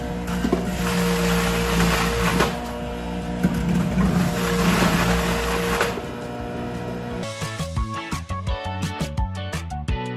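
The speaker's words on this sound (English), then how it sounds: "we're going to simply turn it on and get juicing" A WJX80 commercial juicer whirs loudly as it runs, a dense mechanical grinding hum; after about seven seconds it gives way to a choppy, rhythmic clattering sequence.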